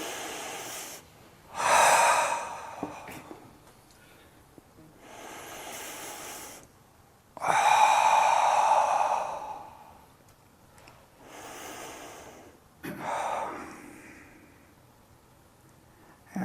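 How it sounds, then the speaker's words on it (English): Slow deep breaths in and out during a guided calming exercise: three long, close, airy inhales and exhales separated by quiet pauses, with no talking. "Take a deep breath."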